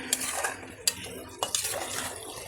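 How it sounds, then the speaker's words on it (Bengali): A spoon scrapes and clanks against a cooking pot as mutton with spices is stirred, several sharp knocks among soft sizzling and shuffling of the meat. "সো ফ্রেন্ডস দেখতেই পাচ্ছেন এবার আমার নাড়াচাড়া করে নিয়েছি আমি মাটনটাকে"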